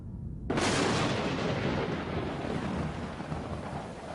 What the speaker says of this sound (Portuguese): trovões ribombavam